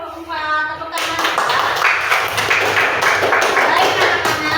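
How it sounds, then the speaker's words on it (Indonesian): Classroom applause for a student group, a dense patter of many hands clapping that starts after a brief moment of voice and continues steadily and fairly loud to the end. "Terima kasih untuk kelompok 4. Tepuk tangan."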